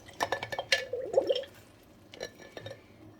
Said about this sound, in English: I'm going to give it a good stir.